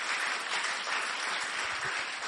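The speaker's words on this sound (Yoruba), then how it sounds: "Ẹ pàtẹ́wọ́ sí fún ilé ẹ̀kọ́ sí" A school crowd at an International Mother Language Day celebration applauds, steady dense clapping for about two seconds, loud and close, with no voices over it.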